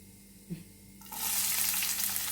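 Onion and curry leaves dropped into hot oil with mustard seeds, a quiet lead-in with a soft knock, then a sudden loud sizzle that holds steady and close to the end.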